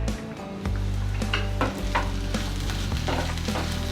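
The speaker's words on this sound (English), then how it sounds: "Our bhindi has been cooking for almost 12 minutes now." Okra (bhindi) sizzling and frying in a wok while being stirred, a steady close crackle with repeated scraping strokes of a utensil against the pan.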